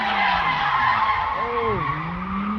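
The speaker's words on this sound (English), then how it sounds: "Oh, he just popped the tire." Race car tires squealing in a loud, sustained skid after a tire pops on a V8 Nissan S14 drift car, a bending screech over steady engine roar with voices faintly underneath.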